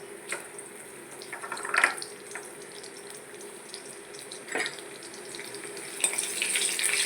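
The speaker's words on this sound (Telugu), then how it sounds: "ఆయిల్ హీట్ అయ్యిందండి ఎల్లుల్లిపాయ వేసుకుందాం" Garlic fries in hot oil for a tempering, giving a soft, steady sizzle with a few louder bursts of crackle as it is stirred, fairly quiet and with no talking.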